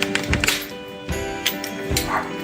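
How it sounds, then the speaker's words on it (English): A neighbor's dog barking repeatedly in short sharp bursts, somewhat distant, over a steady background hum. "You can hear the dog going crazy."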